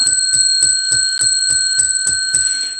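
A cowbell is rung rapidly and loudly in an even, repeated rhythm, about three strikes a second, each hit ringing bright and metallic with no speech over it.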